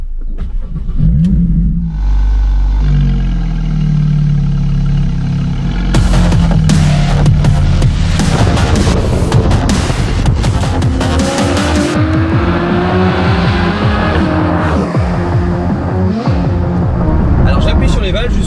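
A Porsche 991.1 Carrera 4S with a naturally aspirated engine and open exhaust valves roars loudly up through the revs, then drops through the gears with crisp shifts and snarling blips, close and dominant throughout.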